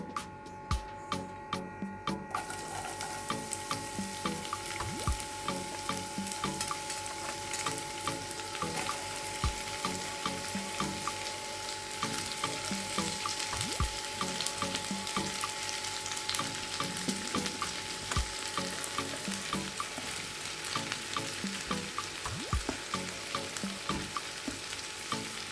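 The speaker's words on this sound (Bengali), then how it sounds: "এবার এই তেলেতেই গাজর আর ক্যাপসিকাম ছেড়ে দেবো।" Carrots and capsicum sizzle steadily in hot oil in a home kitchen pan while noodles are being prepared, a dense, continuous frying crackle with occasional stirring scrapes, close and without any talking.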